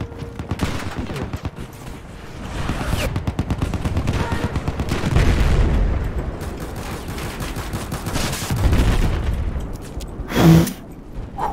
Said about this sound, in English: Dude just shot him with a fucking rocket launcher at close range.